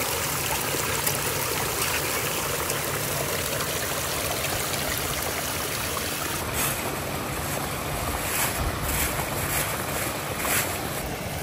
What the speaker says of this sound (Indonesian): sekarang suamiku lanjut untuk mencuci lobaknya di sungai ini